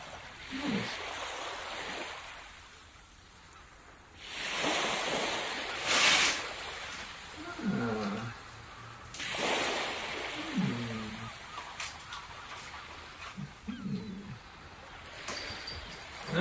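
Ocean waves wash onto a beach in slow swells that rise and fall, with wind buffeting the microphone and faint voices now and then.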